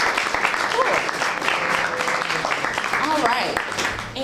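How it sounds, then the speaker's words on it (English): Audience applause fills a panel session at the CS Fair NYC 2016 AOL panel, a dense, steady wash of clapping that stays loud throughout, with voices mixed in. "give yourself a round of applause"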